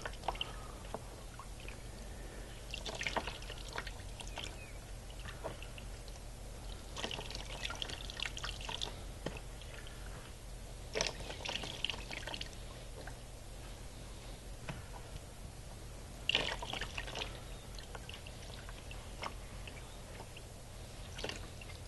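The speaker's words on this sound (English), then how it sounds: "Now I've just got a little bucket of water here, and we're just going to cool this off." Water from a small bucket is poured over a red-hot steel spindle, giving faint, scattered splashes, drips and hissing trickles in short bursts over a low steady hum, with no talking.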